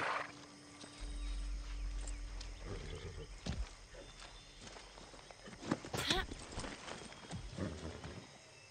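Horse hooves clip-clop at a walk in the video game Far Cry 6, a scattering of irregular footfalls over a low game ambience with occasional louder thuds and a brief whoosh.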